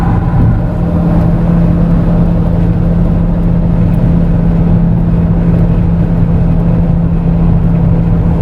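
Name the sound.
2007 Acura TSX driving at highway speed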